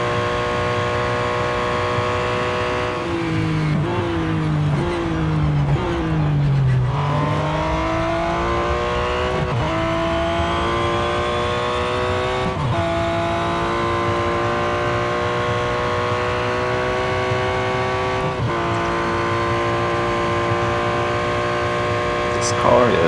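In the racing game Real Racing 3 at Le Mans, a race car engine with a six-speed gearbox winds up through the gears in repeated rising sweeps with gear-change dips, loud and continuous, with someone talking over it.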